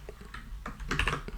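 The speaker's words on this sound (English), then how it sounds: "I am not used to typing with a microphone sitting between my wrists" Quick, uneven clatter of fingers typing on a computer keyboard with a microphone resting between the wrists, close and fairly quiet, with no voice over the keystrokes.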